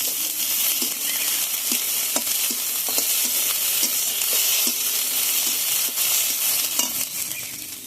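Small diced potatoes frying in hot oil in a pan, stirred with regular scraping strokes of a spoon over a steady, loud sizzle, with no talking.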